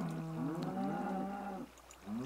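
Cows in the Minecraft video game moo in long drawn-out low calls, one overlapping another, fairly close and alone.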